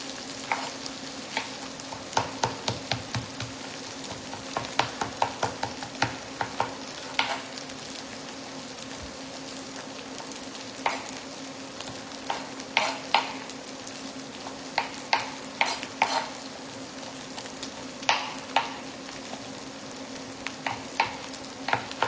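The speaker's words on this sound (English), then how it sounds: "Let's give this one more little stir through." Turkish-style mince fries in a pan while a utensil stirs and scrapes through it, a steady sizzle underneath irregular clattering strokes that come in short bursts, close and fairly loud, with no talking.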